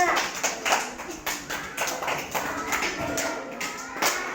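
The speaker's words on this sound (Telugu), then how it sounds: "క్లాప్స్ కొట్టండి విజయ్కి." Schoolchildren in a first-grade classroom clap for a classmate, uneven bursts of hand claps and taps close by, with scattered voices mixed in.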